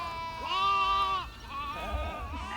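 Goats at Gildan's wastewater treatment site let out two long, wavering bleats in quick succession, close and clear over a low outdoor rumble.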